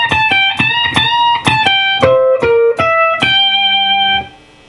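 An electric guitar plays a blues lick, a quick run of picked notes with bends and a final sustained note that rings and then cuts off, loud and clear.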